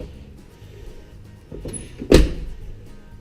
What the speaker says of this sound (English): it just opens and shuts a hell of a lot better now too